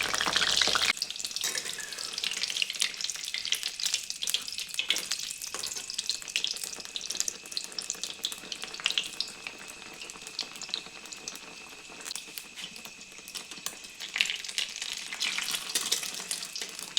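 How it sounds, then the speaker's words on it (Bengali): A Mughlai egg paratha fries in oil, with a continuous close bubbling hiss and fine crackles that hold steady throughout, without any speech. "এটি এই তেলের মধ্যে ছেড়ে দিচ্ছি, দিয়ে ভালো করে লাল লাল করে ভেজে নিচ্ছি।"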